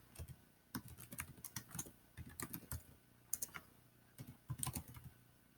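Fingers type a password on a computer keyboard, quick irregular bursts of soft, close key clicks separated by short pauses.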